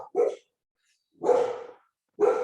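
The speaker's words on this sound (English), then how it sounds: "So they're barking at like UPS or" Dogs bark indoors in three separate gruff barks, spaced about a second apart, fairly close and with silence between them.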